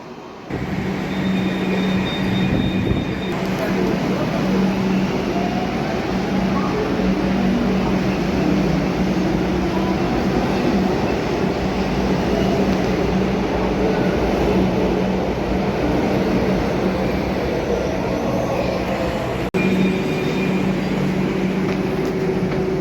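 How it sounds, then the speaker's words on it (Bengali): A Kolkata metro train runs underground, heard from inside as a loud, steady rumble and rushing drone that continues unbroken for the whole stretch, with no one speaking. "ফাইনালি আমরা উঠে পড়লাম মেট্রোতে।"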